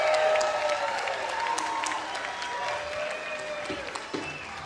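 A concert crowd at an outdoor music event applauds and cheers for a tribute band, a dense wash of clapping that slowly fades while a voice speaks over it.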